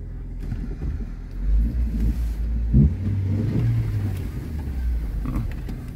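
A car's engine rumbles as it is driven at normal speed, a low, steady drone that swells briefly as it accelerates and then settles, with no voices.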